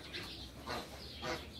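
Birds in an aviary at a rustic garden space give soft, faint bursts of wing flapping and rustling against a steady background hum.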